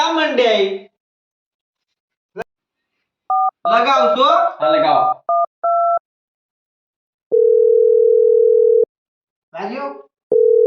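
During a phone call in a comedy sketch, a handset plays quick touch-tone dialing beeps, then a steady tone of about a second and a half, with people talking in short bursts between the tones.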